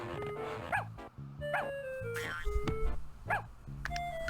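A cartoon puppy in the children's game Fatty Bear's Birthday Surprise yips and barks in quick repeated bursts over light, tinkling game music, close and bright.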